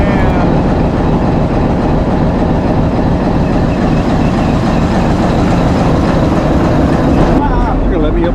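Classic train running close by at a crosswalk, a loud, steady rumble and rattle that holds throughout, with a shift in tone near the end.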